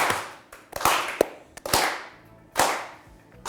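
Studio audience clapping on a Turkish TV word game show, scattered sharp claps arriving in a few separate bursts that fade between, fairly close and with no talk.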